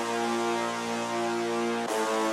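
Sustained synth brass chord from the Nexus Fat Brass preset, rich and buzzy, holding steadily for about two seconds before shifting into a new chord.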